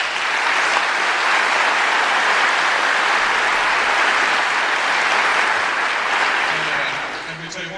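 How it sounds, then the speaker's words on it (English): An audience gives a loud, sustained round of applause for Governor Branstad, a thick wash of clapping that holds steady for several seconds before tapering off as a voice begins to speak. "I want to give him a round of applause for taking a stand for me."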